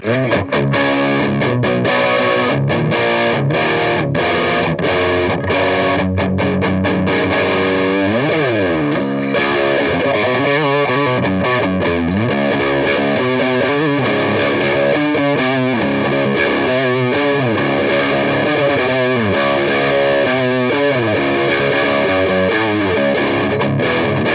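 An EVH SA126 Special electric guitar plays a rock tone through heavy distortion and effects, with strummed chords and riffs ringing out loud and continuous, alone without talk.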